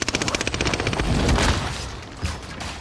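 Video-game gunfire in a rapid automatic burst of evenly spaced shots, loud and close, trailing off into a rumbling echo with a final single crack, no talking.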